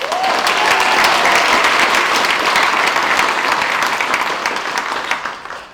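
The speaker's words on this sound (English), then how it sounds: "Let's give a loud round of applause for Dr. Billy Thomas." Loud, sustained audience applause at a college talent show honoring a retiring staff member, dense clapping filling the room for several seconds before tapering off at the end.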